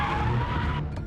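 A car brakes hard on a busy highway bridge at night, its tires skidding in a long loud screech that runs for about a second and then tails off against road noise.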